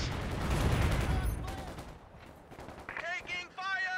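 Gunfire in Company of Heroes 2 crackles as a dense, loud burst of rifle and machine-gun shots early on, then fades under a clipped voice line and radio-style unit callouts.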